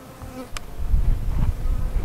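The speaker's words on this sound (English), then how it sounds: "So the bees are immediately right up in the frames" Steady low buzzing of many honey bees close by at a Flow Hive in an apiary, a dense droning hum that swells slightly and holds throughout, with no voices.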